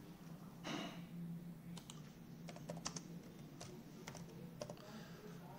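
Quiet typing on a computer keyboard, soft irregular clusters of key clicks over a low steady background hum.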